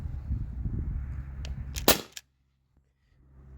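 A T4E HDP50 CO2 air pistol, fed from a remote-line 20 oz CO2 tank with an expansion chamber, fires a single sharp shot through a chronograph, after a brief click and over steady low background hum.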